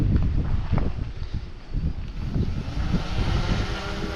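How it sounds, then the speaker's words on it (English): A drone flies over an Iowa farm field, giving a steady, broadband whir with wind buffeting, loud and continuous throughout with no voices. "let's see if we can not lose my drone this time"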